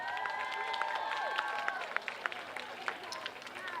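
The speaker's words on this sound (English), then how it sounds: "Let's give another round of applause to our amazing scholars." Audience applause at a mayor's press conference for a mural unveiling: steady, crowded clapping over several seconds, mixed with scattered sharper claps and a few voices calling out over it.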